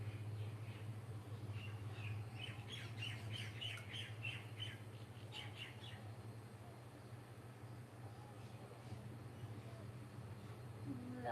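Birds call outdoors on a Maui morning, with a cluster of quick chirps and squawks at a moderate distance over a steady low background hum. The calls are brief and scattered and thin out later.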